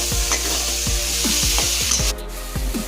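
Potatoes for a crab curry fry in hot oil in a pan: a steady, close sizzle with rhythmic scraping stirs about every half second.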